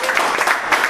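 A church congregation breaks into a brief, dense burst of clapping, loud and steady throughout with no pauses.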